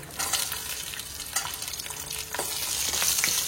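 Ginger and garlic sizzle and fry in oil in a kadai, a steady, close crackling hiss broken by a few louder bursts as the pieces are stirred, with no voices.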